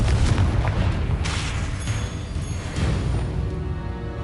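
A Confringo fire spell explodes in the game Hogwarts Legacy, a loud continuous booming blast with a dense low rumble and crackling burst throughout, alone without talk.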